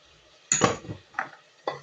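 A spoon stirs ground spices, including coriander powder and garam masala, frying in a pot for a meat dish: three or four short, close scraping clinks against the metal with pauses between them.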